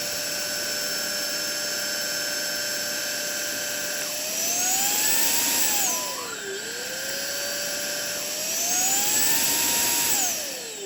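A Smoture VAC01 cordless vacuum cleaner whines steadily at close range, its high motor pitch rising and falling twice as it surges and eases.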